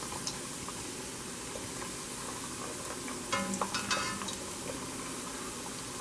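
Green plantain pieces frying in about an inch of oil for Colombian patacones, a steady, dense sizzle and bubbling with a short burst of clinks and movement midway, close and unbroken by voices.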